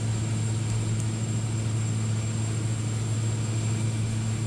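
A Milviz DHC-3T Turbo Otter turboprop in X-Plane 11 holds a steady, droning engine hum with a constant low tone and a faint high whine, even and unchanging throughout, with no voices.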